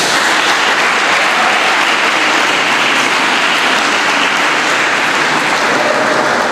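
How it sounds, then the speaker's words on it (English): Sustained, dense audience applause fills the hall at the 2023 South African Science Olympiads awards program, loud and steady throughout with no voices on top. "So give yourself a round of applause"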